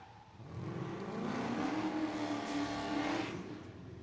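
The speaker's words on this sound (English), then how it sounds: "Rye is opening up the throttle and burning up the tires." A drift car at a Formula Drift Pro-Spec knockout qualifying round revs hard, its engine whine rising and holding while the tires burn. The sound swells over about four seconds, fairly distant, with no one talking.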